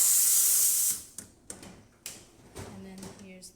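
Steam wand of a Rocket Appartamento espresso machine, one that had trouble building pressure, lets out a loud, steady hiss for about a second, then shuts off, leaving a few faint clicks and knocks.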